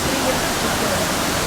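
Steady broadband rush of the Kothapally waterfall, a dense continuous roar filling the scene with no breaks, close and loud.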